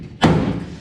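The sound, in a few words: 1953 Ford F100 truck door being closed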